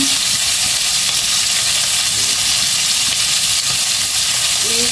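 Plum pork ribs sizzle and fry steadily in a hot pan, a dense continuous crackling hiss that stays loud and close for the whole stretch with no talking over it.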